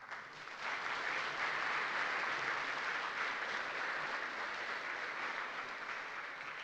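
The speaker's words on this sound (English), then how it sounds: "Get one more round of applause." Sustained audience applause fills a conference hall after a programming talk at DConf 2017, a dense, even wash of many hands clapping that swells in after a quiet start and holds steady to the end.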